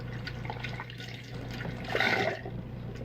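A shaving brush for a double-edge razor setup is wetted under running water, a brief splash and trickle swelling in the middle of a steady hum, with no talking.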